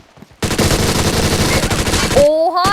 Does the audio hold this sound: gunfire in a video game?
yes